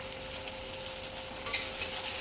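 Tomato frying in a pan with a little salt for a potato tamarind curry, a soft steady sizzle with a brief louder spatter near the end, no talking.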